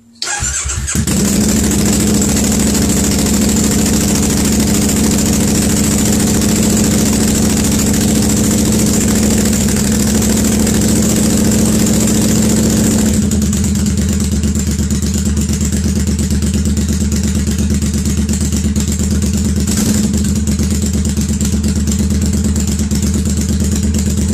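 A Triumph Bonneville motorcycle, being checked for ignition coil and pickup coil trouble, cranks and fires almost at once, then settles into a loud, steady close-up idle that drops to a slightly lower, smoother note partway through.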